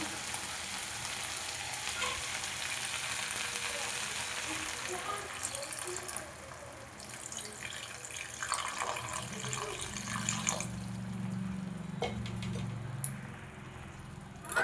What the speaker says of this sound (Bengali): এবার এর মধ্যে দিয়ে দেবো জল।